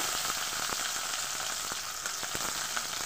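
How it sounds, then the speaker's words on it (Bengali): Onion and capsicum frying in a little oil on a gas stove, a steady close sizzle with scattered sharp pops and crackles throughout, no voices. "ভেজে নেব পেঁয়াজটা আর ক্যাপসিকামটা"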